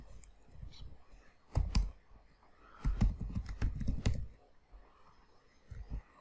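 Keys clack on a computer keyboard as terminal commands are typed, arriving in short bursts of clicks with pauses between, close and fairly clear over a quiet background.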